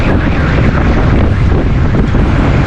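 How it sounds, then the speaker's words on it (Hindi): Strong wind from a dust storm in Karachi buffets the microphone in a steady, roaring rush with no pauses, loud and close throughout. "हवा चल रही है"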